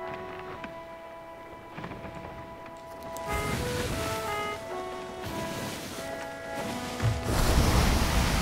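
Ocean surf washing steadily in the pirate sailing game Sea of Thieves, a continuous broadband rush under sustained musical tones that swells louder toward the end.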